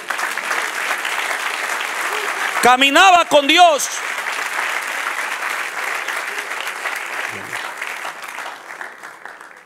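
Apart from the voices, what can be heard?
applause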